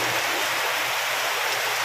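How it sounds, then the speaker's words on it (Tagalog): Rising floodwater flows with a steady, dense rushing hiss, loud and constant, like a stream pouring past, with no voices over it. "Ayan guys, tumataas na nga ang tubig."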